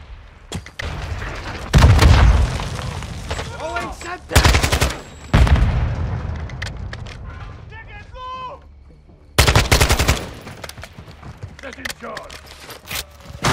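Gunfire and explosions from Modern Warfare 2 Spec Ops, with RPG and grenade blasts: several loud booming bursts and rapid automatic fire in clusters, mixed with game voices and players talking over the action.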